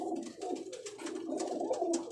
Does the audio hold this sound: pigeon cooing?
yes